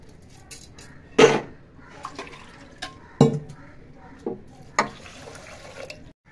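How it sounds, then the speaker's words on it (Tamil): Water is poured onto rice in a cooker for venn pongal, in a few separate splashing pours and trickles with short quiet gaps between them, close and fairly clear. "இப்போ அரிசியை போட்டு தண்ணி ஊற்ற போகிறோங்க."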